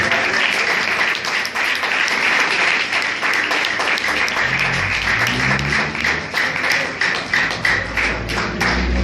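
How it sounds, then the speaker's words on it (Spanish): A church congregation claps in praise of Jesus Christ, a loud, sustained roar of many hands with sharp individual slaps standing out, and a low droning sound joining partway through. "¿Cuántos le damos palmas al Señor Jesucristo?"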